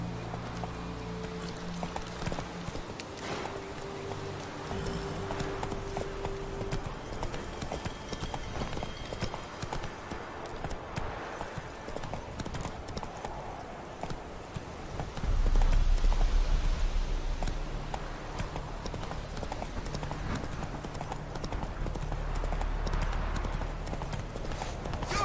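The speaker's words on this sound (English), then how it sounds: "Whoa there, Roach" A horse gallops in The Witcher 3 with steady, close clip-clopping hoofbeats against a game soundscape, growing louder and heavier partway through.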